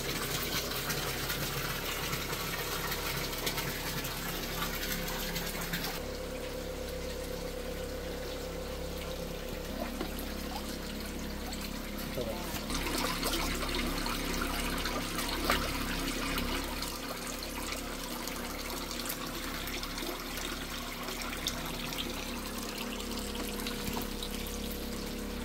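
Water pours and splashes continuously as fish are released into a tilapia pond on a fish farm, a loud, steady outdoor rush with shifting tone and no talking.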